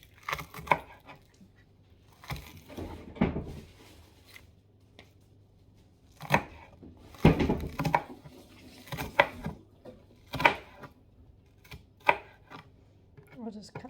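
A knife chops vegetables for pumpkin soup on a cutting board, giving scattered, uneven taps and thuds at moderate closeness, interspersed with soft handling noises and light talk between the cuts.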